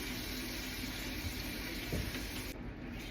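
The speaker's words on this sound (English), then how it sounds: "I am going to have to rinse my hand" Running tap water pours steadily while a hand is rinsed beneath it in a kitchen, a constant close hiss and splash with a brief shift as the hand moves through the flow.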